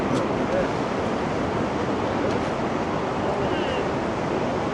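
Takakkaw Falls in Yoho National Park, near Field, British Columbia, gives off a constant broadband roar of falling water, steady and fairly loud, with wind noise mixed in.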